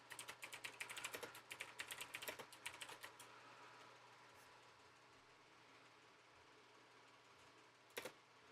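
Rapid clicky mechanical keyboard typing during a Pokemon XD: Gale of Darkness stream, dense bursts of keystrokes for about three seconds, then quiet with a single brief clack near the end.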